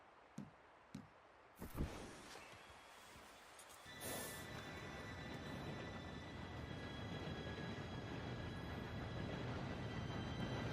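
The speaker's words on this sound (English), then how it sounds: "Train should be here any minute now." In the Red Dead Redemption 2 video game, a train approaches. After a few scattered knocks, a low rolling rumble begins and swells steadily while a faint metallic whine rises above it, all quite distant.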